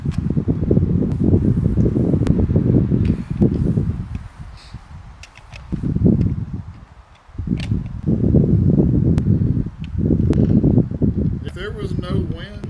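Gusty wind at a long-range shooting range buffets the microphone in loud, roaring bursts that swell and ease across the stretch, with a few sharp clicks and people talking now and then.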